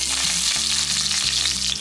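Cloves, fennel and cinnamon fry in hot oil for tempering, giving a loud continuous sizzle with steady crackling hiss and a low stove hum underneath.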